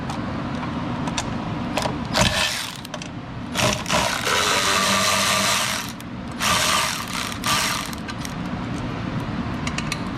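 A power tool with a 10 millimeter swivel socket on an extension loosens bolts on a Ferrari 360 engine during a timing service, giving several loud, close bursts of whirring and rattling between quieter gaps.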